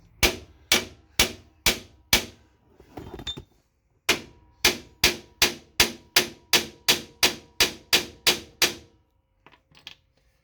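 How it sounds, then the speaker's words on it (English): Loud, sharp hammer blows on a Jeep spring-over-axle lift part ring out at a steady pace, a few strikes, a brief pause with scraping, then a longer run of rapid even hits. "Maybe a hammer will do it."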